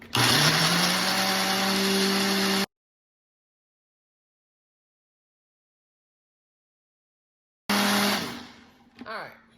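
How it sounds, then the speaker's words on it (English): A Ninja blender whirs loudly while blending vegan cheese sauce until smooth, first in a steady high-pitched run that cuts off, then in a second burst that winds down, followed by a short thump. "I'm going to have to use my Ninja. I'm going to blend till smooth."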